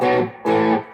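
An electric guitar played through an amp with gain and reverb turned up: two loud, distorted sustained chords, each ringing out with a reverb tail, and no voices.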